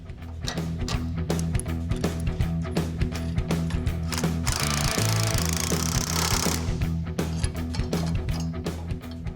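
Bolts on the rear coilovers of a 1972 Chevy Chevelle are tightened with a ratchet, giving rapid, evenly spaced clicks close by. A brief whirring burst comes midway.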